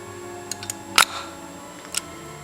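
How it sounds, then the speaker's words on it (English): Praktiflex FX SLR, a vintage camera whose mirror stays up after firing: a sharp mechanical shutter clack stands out among a few lighter ticks and clicks from the body, close and alone. "When you fire the shutter, the mirror stays up."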